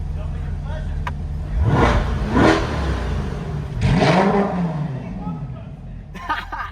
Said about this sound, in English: pull both paddles in, release the clutches, rev it, and right back into gear